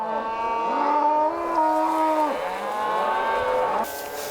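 Several cattle moo loudly in long, overlapping calls, close by and unbroken for the whole stretch, with no talk over them.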